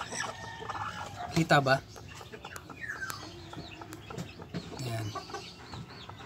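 Sebright bantam chickens, about one and a half months old, cluck and chatter close by in a small backyard coop, with a louder burst of squawking early on and someone speaking briefly between calls.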